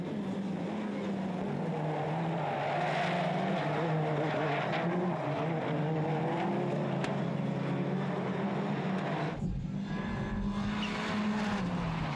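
Rallycross race cars roar past in close pursuit, a Peugeot 207 chasing a Renault Clio, with loud, sustained engine drone and shifting pitch, sliding tire noise and a sharp change as they pass at the 2011 Châteauroux event.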